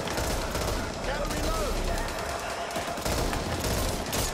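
Rapid automatic gunfire in the video game Back 4 Blood, dense and continuous throughout with a player's voice talking over it.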